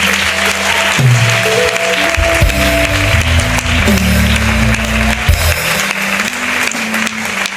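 A congregation at a church service applauds the Lord, steady loud clapping and cheering throughout while an organ or keyboard holds chords underneath.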